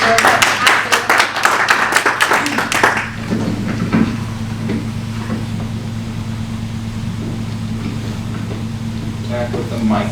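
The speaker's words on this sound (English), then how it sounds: "Let's give him a big round of applause," An audience at a training boot camp event claps loudly for about three seconds, then the applause dies away into a low room hum and a voice speaking.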